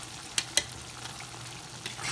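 Tomatoes sauté with a fish fillet in a pan for sarsiado, giving a soft, steady sizzle broken by a couple of sharp stirring clicks near the start and another toward the end.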